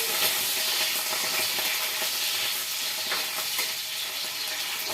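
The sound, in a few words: potatoes frying in a kadai (wok) for curry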